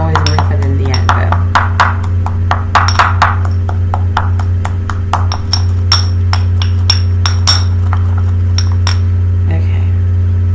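Incense ingredients for a smudging recipe are ground by hand, giving a long run of sharp, close clinks and taps at an uneven pace over a steady low hum.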